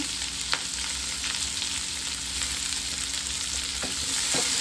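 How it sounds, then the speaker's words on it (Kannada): Onions frying in a pan for hotel-style poori sagu, a steady close crackling sizzle with occasional sharp pops and faint stirring scrapes, no voices. "ಆ ಈರುಳ್ಳಿನ ನೀಟಾಗಿ ಫ್ರೈ ಮಾಡ್ಕೋಬೇಕು."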